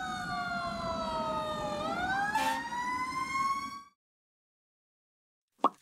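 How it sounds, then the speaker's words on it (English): A fire engine siren wails loudly with a rising and falling tone, sounding alone for about four seconds before cutting off, and a brief sharp knock follows near the end. "This is a fire engine."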